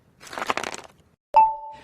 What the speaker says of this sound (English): That's the intern Dale, cracking ice for a soda.